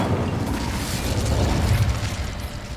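A fiery Incendio spell bursts in Hogwarts Legacy, a dense, roaring whoosh of flame with a deep rumbling low end that holds steady and loud for a few seconds without any voices.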